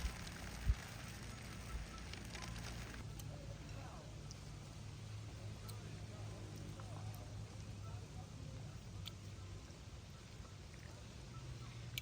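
Steady, faint rain falls outdoors on a riverbank at Kalabagh while the sun shines, a continuous soft hiss with a low background hum and a brief knock near the start.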